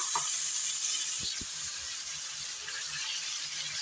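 A steady sizzle of chicken frying in a pan runs throughout, with a few soft scraping knocks from stirring.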